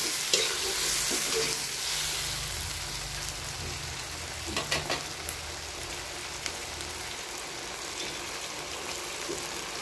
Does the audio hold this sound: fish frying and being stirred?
yes